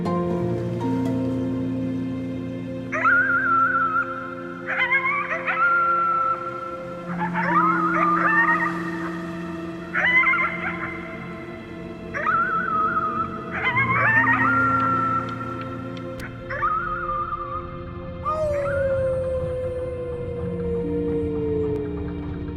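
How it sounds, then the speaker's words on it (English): A character howling at the moon in the video game Before Your Eyes: a run of drawn-out, rising howl-like cries repeats over sustained musical tones, with a soft rain-like hiss underneath. "You howled at the moon, at the top of your lungs."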